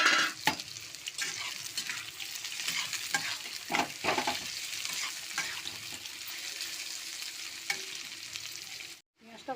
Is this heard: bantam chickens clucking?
no